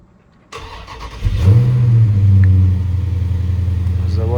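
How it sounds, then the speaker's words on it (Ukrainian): A Dodge Challenger Shaker Hood is started: starter cranking gives way to an engine catching with a loud rev, then settling into a deep, steady close-up idle rumble, with a voice briefly audible. "Зараз ще попробуємо його завести."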